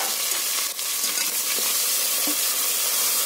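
Onions dropped into hot oil with bay leaf, cinnamon and cloves for egg biryani, giving a loud, continuous, close sizzle with no talking.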